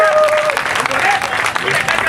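Political rally crowd applauding the head of state, dense clapping and cheering that stays loud for the whole short stretch, with a voice talking over it.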